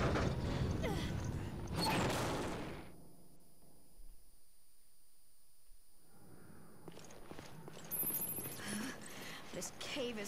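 A door swinging open in Resident Evil Revelations: a mechanical creak and clunk, then near silence and a second rattling, grinding movement, with brief voices at the start.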